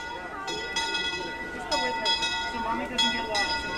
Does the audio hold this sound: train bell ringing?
yes